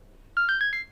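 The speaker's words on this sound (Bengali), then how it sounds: "মনে হয় ফোন আসছে" A phone ringtone sounds for an incoming call, four quick bright electronic tones rising slightly in pitch, played close and clear against near silence.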